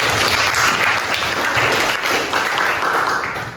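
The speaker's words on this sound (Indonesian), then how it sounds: "tepuk tangan untuk semua kelompok yang telah presentasi" Classroom applause for student groups after their presentations, a dense burst of many hands clapping close by for a few seconds before tapering off.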